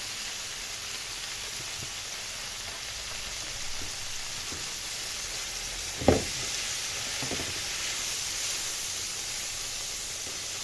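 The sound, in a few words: liver sizzling in a pan on the gas stove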